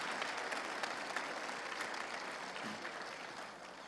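An audience claps steadily for teachers at an evening church gathering, a dense, sustained round of applause that holds for several seconds and eases slightly toward the end.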